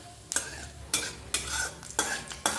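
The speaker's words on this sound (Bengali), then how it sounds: "গোটা জিরে ফোড়ন করে দিলাম" Whole cumin seeds tempering in hot oil, a crackling sizzle broken by four or five loud scraping stirs at an uneven pace, close and clear with no voices.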